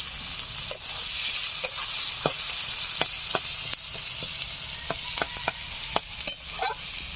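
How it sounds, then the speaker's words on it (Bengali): Chopped onions with bay leaf, dried red chilli, whole cumin and a pinch of salt fry in a pan for a chicken curry, giving a steady close sizzle broken by scattered clinks and scrapes of a stirring spoon. "পেঁয়াজগুলো একটু হালকা লালচে করে ভেজে নেব"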